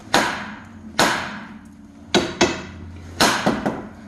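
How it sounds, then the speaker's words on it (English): A large hammer strikes a Jeep Grand Cherokee's steel steering knuckle to pop the ball joint loose. Sharp metallic blows land one at a time, some spaced wide and some close together in pairs, each ringing briefly. "You're going to have to smack it right here, not on the tie rod, on the actual knuckle itself, right here, and it'll pop loose."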